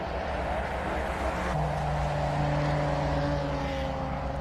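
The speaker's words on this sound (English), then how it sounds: "Oh, listen to that Porsche." A classic Porsche racing up the Simola hillclimb, heard fairly faintly from a distance as a rising engine tone that climbs steadily over the background noise.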